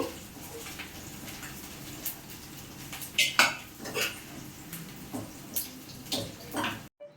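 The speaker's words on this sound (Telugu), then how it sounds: "ఈ వేగిన రొయ్యలు ఉన్నాయి కదా ఇవి ఒక గిన్నెలోకి తీసుకోవాలి" Fried dried prawns for a spicy prawn biryani are moved into a bowl, giving a steady run of close metal clinks and scrapes of spoon against vessel, with a few louder knocks toward the end.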